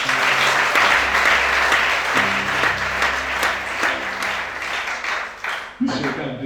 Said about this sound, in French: Acclame ça.